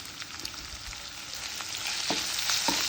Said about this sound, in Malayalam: ആ ഉള്ളി ഒന്ന് വഴറ്റിയെടുക്കാം.